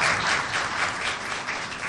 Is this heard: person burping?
no